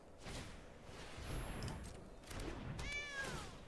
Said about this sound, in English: I wonder what this cat's doing.